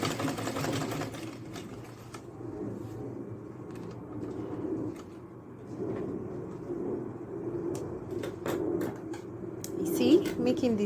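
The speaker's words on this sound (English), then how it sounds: "I'm going to top stitch on it now. Top stitch on both sides." Top stitching on an Ankara fabric purse runs as a low, steady sewing machine hum throughout, moderately loud and close, with light handling noises over it.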